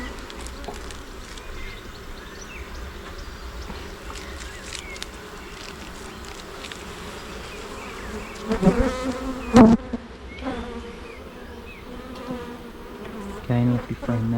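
Honey bees hum in a dense, continuous buzz around an open brood box during a hive inspection, with a few louder bumps and rustles of frame handling partway through.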